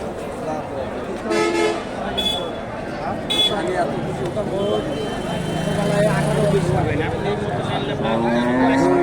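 Friesian dairy cows lowing at a busy cattle market in northern Bangladesh, with a few moos rising over steady crowd chatter and bargaining voices throughout.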